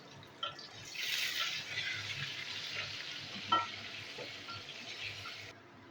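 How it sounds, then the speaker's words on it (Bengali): Sliced potatoes fry in hot oil for a chicken do pyaza, giving a steady close sizzle with a few sharp pops and stirring clinks, with no talking. "আলুগুলো আমি ফ্রাই করছি"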